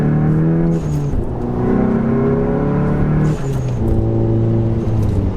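A car with a Unitronic Stage 2 tune revs and pulls hard merging onto a parkway, pitch rising through gear changes, loud and close from inside the vehicle.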